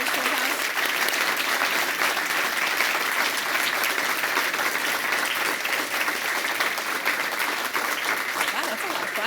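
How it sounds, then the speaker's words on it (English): Sustained audience clapping after a guest's talk, a dense, even wash of many hands applauding that stays steady and fairly loud for over nine seconds with no pause. "Wow, that's a lot of clapping."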